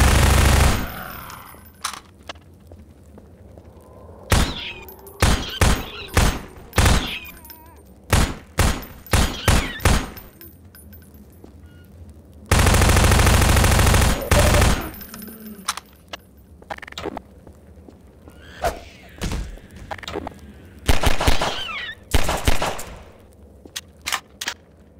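Heavy weapons fire in the video game Half-Life 2: loud, sharp bursts of shots in repeated clusters, with one long sustained roaring volley midway through, and no talking over it.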